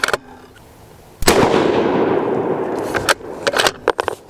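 A single sharp, loud rifle shot from a custom lightweight Terminus Kratos 7 PRC firing 195-grain Berger bullets off a bench at a target, followed by a long rolling echo that fades over about two seconds. A few faint clicks come after it.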